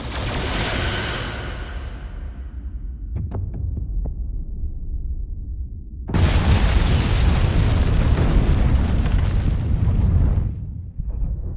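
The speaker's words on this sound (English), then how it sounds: "Firing photon torpedoes." Photon torpedoes fire from a starship in the Star Trek Resurgence video game: a deep booming launch whoosh with throbbing low rumble, a brief lull with faint tones, then a second loud sustained roaring blast.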